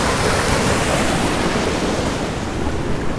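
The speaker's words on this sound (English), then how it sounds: "this cool little waterfall and stream I came upon going into one of the Velma lakes" A loud, steady rush of a small waterfall and stream near the Velma Lakes in the Desolation Wilderness roars close by, a constant broadband wash with no breaks and no voices.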